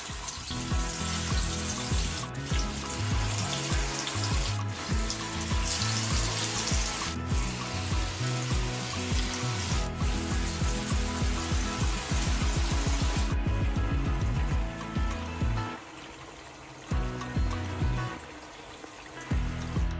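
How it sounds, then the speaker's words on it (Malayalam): Masala-coated chicken pieces fry in hot oil in a pan, a continuous bubbling sizzle that runs throughout beneath loud background music, with no speech. "നമ്മുടെ എണ്ണ നന്നായിട്ട് ചൂടായി വന്നിട്ടുണ്ട്. ഇനി നമുക്ക് ഓരോ മസാല പുരട്ടി വെച്ചിരിക്കുന്ന ചിക്കൻ ഓരോ പീസുകളായിട്ട് നമുക്ക്"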